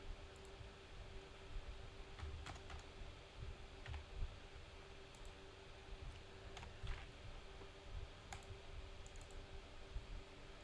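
Keys tapped on a computer keyboard to write annotation text, scattered irregular clicks over several seconds, close but faint against a steady background hiss, with no talk.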